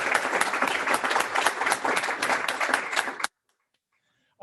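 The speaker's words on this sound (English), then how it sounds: "Let's give them a round of applause." Applause from a symposium audience at an evening program, a dense, lively burst of many hands clapping that stops abruptly into silence after about three seconds.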